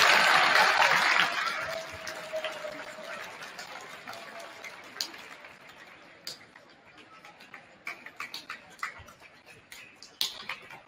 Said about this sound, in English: Can we have another round of applause for these amazing people who came to speak to us today?